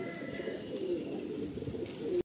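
A black pigeon of an old Kolkata breed line coos in low, repeated throaty calls, close by and steady for a couple of seconds before a brief dropout.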